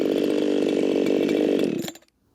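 A chainsaw revving hard in the cut while running too lean, a loud, steady high-pitched engine whine that holds at full speed and then cuts off abruptly into silence.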